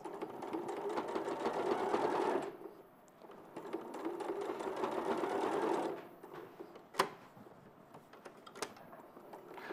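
Sewing machine stitching a seam: two close, rapid runs of rhythmic mechanical clatter separated by a short pause while the fabric pivots at a corner, then a sharp click and a few faint ticks.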